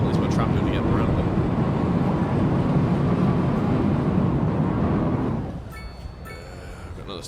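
A tram runs through a city in Cities Skylines 2 with a steady, loud rumbling drone, like a train rolling past, that drops sharply after about five seconds and leaves only faint background sound.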